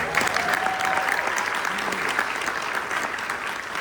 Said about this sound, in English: So Jay, it's about a round of applause for Jay Preston one time